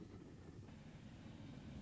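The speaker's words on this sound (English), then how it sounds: "After a pleasant run beside the sea, the pannier tank soon arrives at Blue Anchor." A GWR pannier tank steam locomotive pulls into Blue Anchor station beside the sea with a faint, steady rolling rumble of wheels on track, heard at a distance. No voices are heard.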